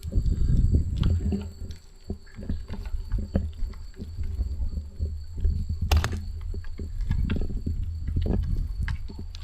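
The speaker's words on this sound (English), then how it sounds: "I can hear water." Water drips and trickles somewhere in a dark, abandoned turnpike tunnel, scattered soft drips over a steady low rumble and echoing ambience, with a brief sharp knock partway through.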